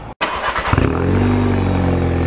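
A Volkswagen Golf engine fires up after a short break and settles into a raised, steady rev, its exhaust giving a close, buzzy, sustained tone.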